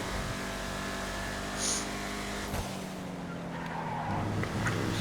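An Arbiter GT car cruising in a racing video game, its engine holding a steady droning tone that shifts pitch partway through as it eases off, with a faint tire squeal near the start.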